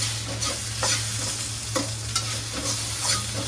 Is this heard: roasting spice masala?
yes